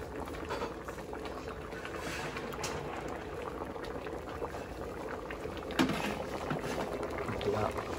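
A pot of fish and bamboo shoot curry bubbles at a steady, rolling boil, a continuous close patter of popping bubbles with a few louder blips.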